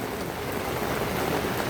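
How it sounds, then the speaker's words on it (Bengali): Heavy rain pours down on downtown Al Buraimi, Oman, a steady dense hiss of falling water with no voices, continuous and fairly loud throughout. "আজকে আবার তুমুল আকারে ওমান আল বেরোমি ডাউনটাউন সিটিতে আবার বৃষ্টি হইতেছে"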